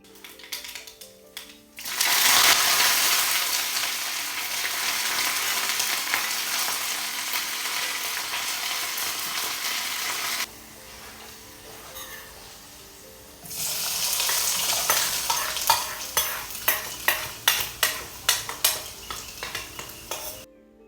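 Hot tempering of mustard seeds, curry leaves, shallots and dried red chillies poured into beetroot chutney, giving a sudden loud sizzle that fades, followed by a second burst of sizzling and sharp clinks of a spoon against the pan.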